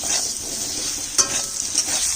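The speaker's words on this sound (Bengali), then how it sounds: "আলুটা ভাজা হয়ে গেছে" Potato pieces fry in a pan with salt and turmeric, giving a steady close sizzle broken by a couple of sharp spatula stirs and scrapes, with no voices.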